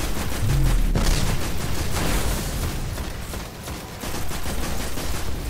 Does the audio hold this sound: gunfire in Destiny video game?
yes